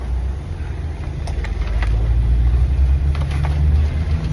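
A dollar van pulls up on a city street, its engine rumbling low and steady and rising slightly as it nears, with faint street noise in the background.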